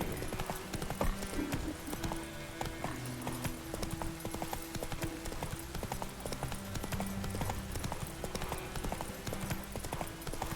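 Roach, the horse in The Witcher 3 video game, trots along a country road with steady, rapid hoof clip-clops over a dense bed of game music and ambience, fairly quiet overall.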